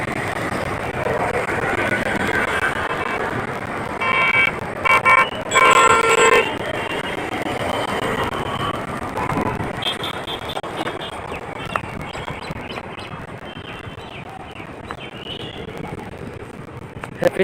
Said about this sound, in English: many cars passing by.